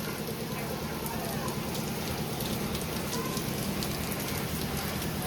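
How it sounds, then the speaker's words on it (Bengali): Heavy rain pours down outside a house and is heard from indoors as a dense, steady hiss that stays even throughout. "ঘরের ভিতর থেকে ভালো মুষলধারে বৃষ্টি শুরু হয়েছে"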